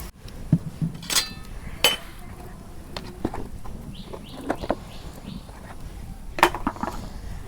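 A metal wok is set onto a freshly lit stove for traditional village cooking, giving a few sharp close clinks and knocks against a quiet outdoor background with faint birds.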